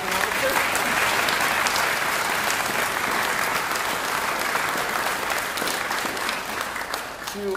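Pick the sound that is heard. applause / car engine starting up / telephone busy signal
applause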